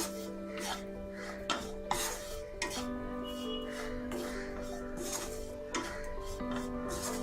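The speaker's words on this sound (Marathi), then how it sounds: "मीठ मिक्स करूया" A spoon or spatula scrapes and rubs through chapati pieces tossed with salt in a pan, steady rasping strokes with faint clinks, while a low hum runs underneath.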